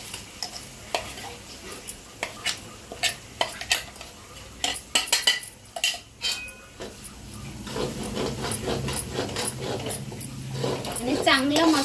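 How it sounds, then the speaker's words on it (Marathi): Masala with cumin and coriander powders is fried and stirred in a pan for undhiyu. A spatula knocks and scrapes against the metal in uneven bursts, then a louder, rising sizzle takes over, and a voice is heard briefly toward the end. "आणि चांगला मसाला फ्राय करून घ्यायचा"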